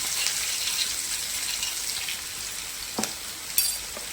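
Steady sizzling of food frying in hot oil, a constant crackling hiss with a few small pops near the end, no voices.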